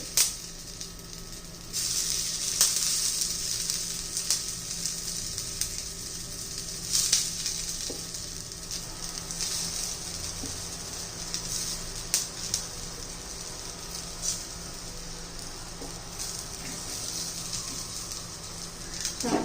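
Sesame-filled alu vadi colocasia rolls coated in gram-flour batter fry in oil, a continuous crackling sizzle with occasional sharper spits and light utensil taps.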